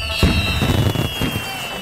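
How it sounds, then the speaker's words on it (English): Cartoon fireworks go off at a New Year's celebration, a loud burst of crackling explosions with a steady high whistle running through, continuing for about two seconds with no talk. "At New Year's, it's tradition to set off fireworks."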